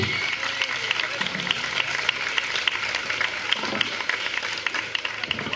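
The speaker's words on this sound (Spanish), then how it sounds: "un gran aplauso." A festival crowd at a live rock concert claps and cheers after a song, a dense, steady wash of many hands close and loud across the whole stretch.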